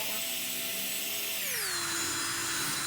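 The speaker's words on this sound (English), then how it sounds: "next we're going to take our drill with the sanding bit on the end of it." A drill with a sanding bit smoothing charred shou sugi ban wood gives a loud, steady high whine that drops sharply in pitch midway and holds lower to the end.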